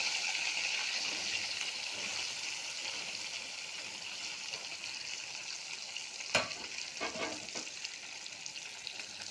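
Katla fish fry in hot oil, giving a steady hiss and crackle that fills the whole clip. A few louder spatters and pops stand out near the end.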